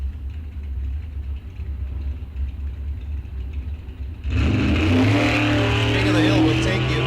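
Drag racing at Rock Falls Raceway: a car engine rumbles at idle, then roars as a dragster launches hard down the strip, loud and sustained with rising revs, with a public-address announcer voice faintly under it.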